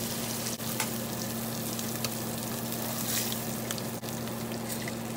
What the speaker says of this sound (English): add another tablespoon of butter now to my vegetable oil and let that kind of simmer up